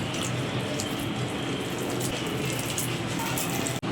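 Water pouring steadily from a vessel into rice flour batter for punugulu, a continuous close splashing gush with no talk, ending in a brief knock.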